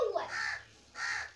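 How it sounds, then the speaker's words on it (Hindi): A crow caws twice, each call harsh and fairly close, with a short quiet pause between them, against faint outdoor background. "बहुत दिनों बाद कौवा आ रखा है"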